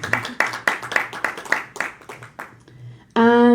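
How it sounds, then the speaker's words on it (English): Audience applause for a guest called up to join a panel at an entrepreneurship and innovation round table, a steady burst of clapping that thins out, then gives way to a loud sustained tone. "An applause for him as well."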